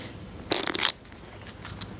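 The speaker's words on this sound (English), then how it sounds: "So the audience member will shuffle them as much as they want." A deck of playing cards being shuffled by hand during a card trick, one short riffling burst of about half a second followed by a few faint flicks, quiet and close.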